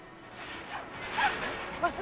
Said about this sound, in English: Are we going to release a dog on him?